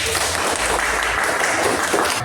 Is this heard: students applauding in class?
yes